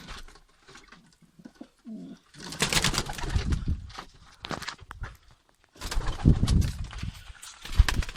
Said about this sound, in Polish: mamy też drugiego gołębia.